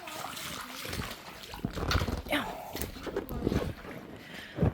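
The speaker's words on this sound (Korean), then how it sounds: "바나나 보트를 물에 띄워봤는데 한번 타볼게요" Someone rides an inflatable banana boat on a large private swimming pool, water sloshing and splashing in irregular bursts close by, with people talking over it.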